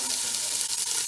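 Onions sizzle steadily in a hot pan for jambalaya, a close, bright hiss with faint crackles.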